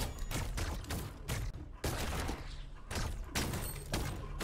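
Rapid bursts of gunfire in the battle royale video game Fortnite, with several clustered volleys of shots and thuds running loud and dense through the whole stretch.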